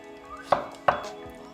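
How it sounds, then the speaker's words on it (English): A knife chopping garlic into thin slices on a cutting board, two sharp distinct chops close by in a quiet kitchen. "So chop the garlic again into thin slices like this."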